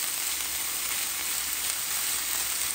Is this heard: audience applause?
no